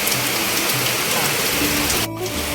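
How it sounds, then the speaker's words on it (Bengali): Rain falls outdoors around a house as a dense, steady hiss of drops, close and continuous, dipping briefly near the end, with no clear speech. "বৃষ্টি শুরু হয়ে গেছে"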